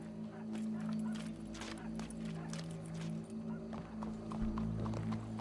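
Horse hooves clip-clop in the Western game Red Dead Redemption 2, a run of moderately close, rhythmic hoof strikes over a steady low ambient hum with a faint voice in the background.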